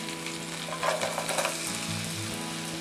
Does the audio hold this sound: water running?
no